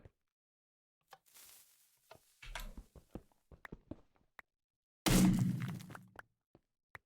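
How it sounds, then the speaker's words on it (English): Small TNT explosion in Minecraft, played in the Project Ozone 3 modpack: scattered clicks and block-breaking crackles, then one sudden loud burst that tails off into rumble, followed by a few faint clicks. "I know the explosion isn't very big."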